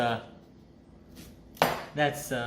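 A butcher's knife chopping onions at home: a few sharp knocks of the blade hitting the cutting board, a quiet gap, then three louder chops close by, with no talk.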